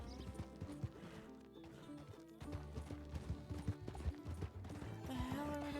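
Horse hooves clip-clop rhythmically at a trot amid game-like ambience, with thuds and a brief rise in noise toward the end.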